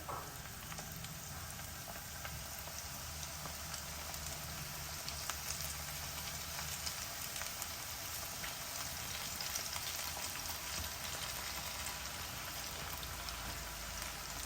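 Brinjal pakodi frying in oil, a steady, even sizzle with fine crackling throughout, fairly quiet and uninterrupted, with no talking.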